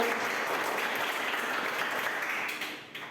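Dense applause from a classroom audience during a school biology activity session fills the space steadily, then thins and fades toward the end.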